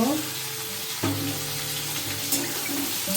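Ridge gourd fries with turmeric and salt in a pan, giving a steady hiss with a few stirring knocks and scrapes close by.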